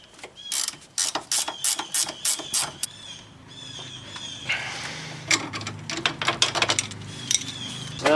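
A ratchet wrench works an 18 mm nut on a sway bar link during front strut replacement on a 2000 Chrysler 300M, clicking in rapid close bursts of ratcheting, with pauses and a steadier run of clicks later on.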